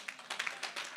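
A congregation clapping during a church sermon, a handful of distinct hand claps in a loose uneven rhythm, fairly close and moderately loud, heard without talk.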